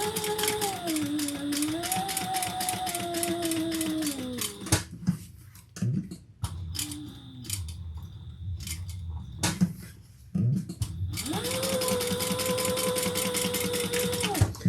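A sewing machine runs steadily while top stitching a bucket bag, with a pause in the middle where the fabric is adjusted and a snip or clicks are heard, then the fast rattling stitching starts again.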